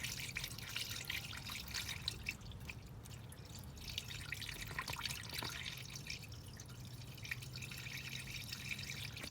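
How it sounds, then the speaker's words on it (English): Coolant pours through a funnel into a first-generation Toyota Tacoma radiator with a steady, soft gurgling trickle and dripping that runs without pause, no talk. "Now use a funnel to pour in the coolant."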